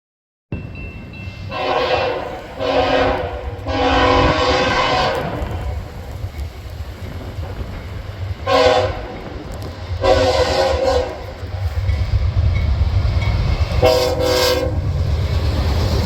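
A freight train rumbles past steadily, its locomotive horn sounding in several long blasts, with the clatter of wheels over rails throughout.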